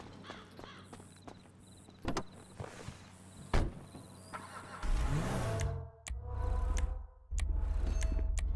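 A car in GTA 5 starts up and revs, the engine surging louder in bursts near the end after quieter rumbling and a few knocks, with no talking.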